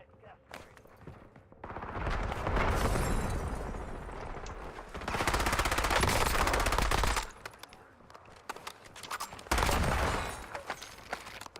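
Machine gun fire in the Warzone battle royale, with several long bursts of rapid automatic shots broken by short pauses, loud and close, plus scattered single shots and faint movement noise between bursts.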